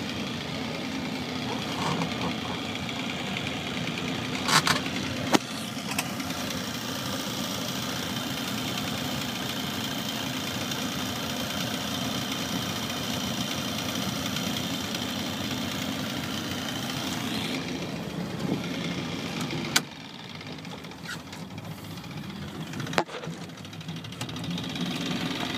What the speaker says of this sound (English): A good little engine.